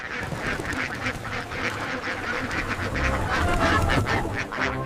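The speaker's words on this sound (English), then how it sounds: "Quack, quack." A cartoon duck quacks and honks in a dense, continuous run of nasal calls, loud and close, over a busy bed of farmyard ambience.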